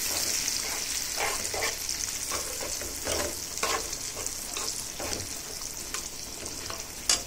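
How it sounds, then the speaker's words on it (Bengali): Frying masala for a koi fish curry sizzles steadily in a pan, with repeated scraping stir strokes breaking through the constant hiss; close and moderately loud, with no voices. "এবার একটু ভালোভাবে কষাই নিই, তারপরে একে একে মাছগুলো বসিয়ে দিব।"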